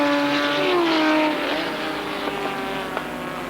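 Porsche and Jaguar race cars at Le Mans in 1988 scream past with a high, whining engine note that falls in pitch, followed by a steady roar of further cars at racing speed.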